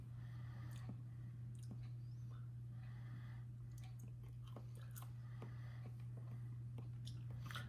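Someone chews Dragon's Breath cheddar, a spicy pepper cheese, with soft, close, moist bites and crunches over a steady low hum. The chewing is quiet and intermittent.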